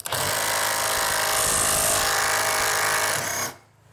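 Tekiro 20V CDID2071 cordless impact driver running at speed 3, a loud, steady high-pitched motor whine with continuous rattling hammering, held for about three and a half seconds before cutting off abruptly.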